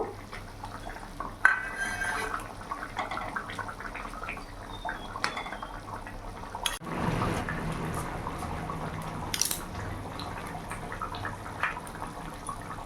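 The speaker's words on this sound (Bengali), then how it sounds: "ঝোলটা ফুটে গেছে, এবার আমি মাছগুলো দিয়ে দেবো।" Pieces of small carp are dropped into boiling curry gravy in a pan, a sudden splash and sputter in the middle of steady simmering, with scattered clinks of utensils against the pan around it.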